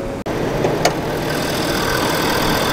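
A 6.7-liter Power Stroke diesel engine in a 2021 Ford F-350 Tremor idles steadily and loudly up close, a constant low rumble with a slight knock and no talking.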